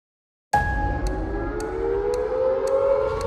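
A civil defense air raid siren starts abruptly after a moment of silence, then holds a loud, steady wailing tone that rises slightly and is heard alone.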